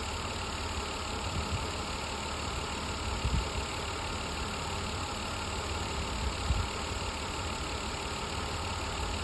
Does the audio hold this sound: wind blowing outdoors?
no